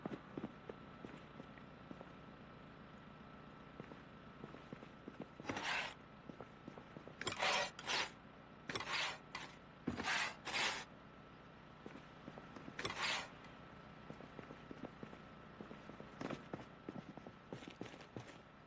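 Plaster scrapes onto a wall with a trowel in Project Zomboid, a series of short, rasping swipes in clusters over a quiet hum of game ambience and faint clicking steps.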